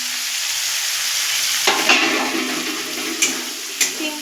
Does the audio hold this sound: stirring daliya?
yes